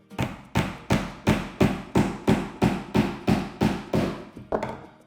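A hammer drives a nail into wood while a wooden book stand is built in a woodworking workshop. About a dozen loud, evenly spaced blows land close by, each followed by a short ringing decay.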